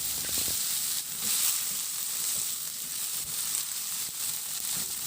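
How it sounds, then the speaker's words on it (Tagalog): Tomatoes and garlic sizzling and frying steadily in a pan, a continuous close hiss with faint stirring scrapes, no talking. "At maglagay na rin ako ng kamatis. Ihalo lang din hanggang sa maluto yung kamatis."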